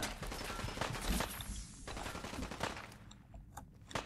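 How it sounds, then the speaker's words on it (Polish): Gunfire in Fallout 4, several sharp shots and bursts cracking out in an irregular rhythm over a busy game soundscape, loud and close with no speech. "Kilka strzałów w niego dajmy jak najbardziej."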